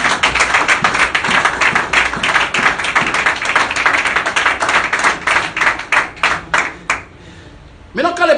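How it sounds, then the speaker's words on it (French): A church congregation claps together in fast, dense, sustained applause that thins into scattered claps and then a short pause before a fresh burst, loud and close. "Applaudissez pour le Seigneur"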